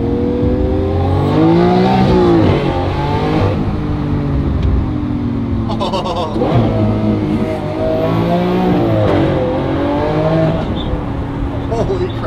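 A Lamborghini sports car engine revs hard in close, loud sustained bursts that rise and fall in pitch, with people talking excitedly around it.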